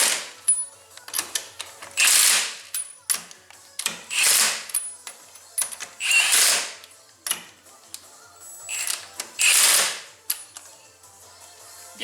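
Tools work wheel lug nuts on a car during a coilover install, with rapid ratcheting clicks and metallic taps interrupted by repeated bursts of loud hissing, close and without talk.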